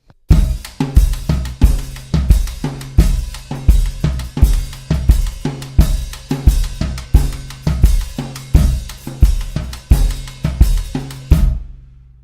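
Drum kit playing a Mozambique pattern with bass drum, steady punchy hits in a tight repeating groove, loud and close with no talking, stopping cleanly near the end.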